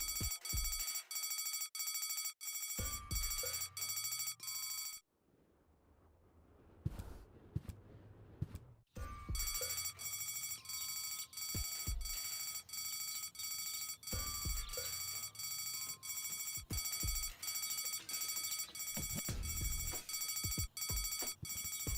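Blast signal bell in the video game Deponia, ringing in fast repeated bursts over a steady tonal drone, broken by a few seconds of near silence and a rumbling crash before the ringing resumes.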